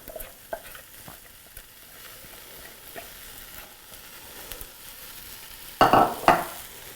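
Garlic, carrots and onion cook in a pot for a veggie coconut curry soup, a faint low sizzle with soft stirring taps, ending in a louder burst of spoon scraping and clatter.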